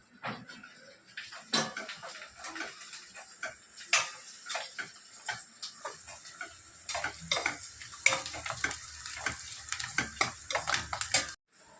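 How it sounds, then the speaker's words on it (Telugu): Onions frying in a pan for chicken curry. A quiet sizzle runs under a series of irregular sharp ticks and scrapes from a spoon stirring against the pan, getting busier toward the end. No one speaks. "చికెన్ కర్రీకి ఉల్లిపాయ ఎర్రగా వేగింది"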